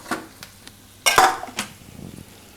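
Cooked cauliflower and capsicum curry being scraped from a pan onto a plate, with a burst of loud metal spoon scrapes and clinks in the middle, then softer scraping fading out.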